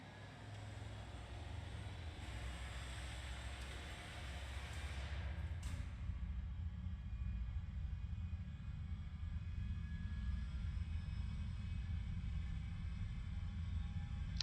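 An IL-28 jet bomber in a video game runs its engines up for takeoff, a steady, loud low roar with broadband hiss that swells slightly and holds throughout, with a brief whoosh partway through.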